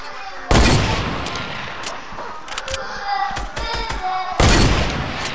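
Sniper rifle shots in Fortnite, two loud sharp blasts at the start and end with scattered quieter gunfire and game effects between.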